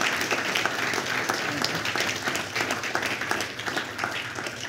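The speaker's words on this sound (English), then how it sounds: "I would like to give Tommy a round of applause if it's not going to embarrass him." An audience at a lecture gives a steady round of applause, dense clapping heard at moderate volume throughout without voices over it.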